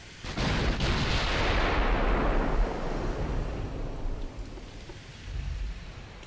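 In the naval warfare game Ultimate Admiral Dreadnoughts, battleship artillery fires a single heavy booming shot that rolls and fades over several seconds, with a faint second thump near the end.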